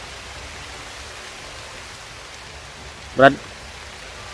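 Heavy rain pours down as a steady, loud hiss throughout, with a brief spoken word breaking in near the end.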